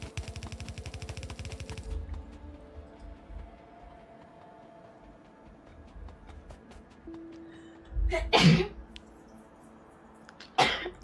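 A single sharp sneeze bursts out near the microphone during a quiet Factorio Space Age gaming session, with a second shorter burst a couple of seconds later over soft background game sounds.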